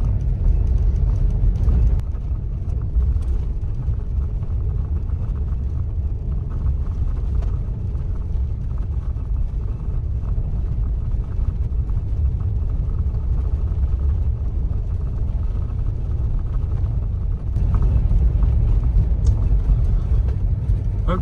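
A Tesla Model Y drives along a snowy, icy road, with a steady low rumble of tyres and road noise filling the cabin, loud and continuous throughout.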